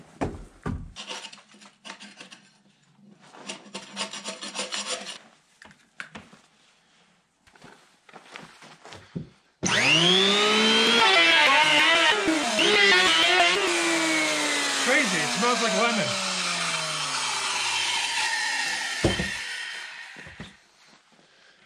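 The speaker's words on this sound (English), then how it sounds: "I gotta give it a planing before I do that, before I install it." A wooden post is planed, first with several bursts of scraping and rasping, then a loud, continuous power-planer whine with shifting pitch as the blade bites into the wood, before winding down.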